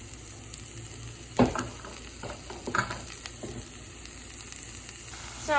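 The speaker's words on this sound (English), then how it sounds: "We're gonna saute them for a few minutes until they're a bit golden brown." Onions sautéing in a Dutch oven for sweet potato soup: a faint, steady sizzle with a few sharp clinks and scrapes of stirring, no voices.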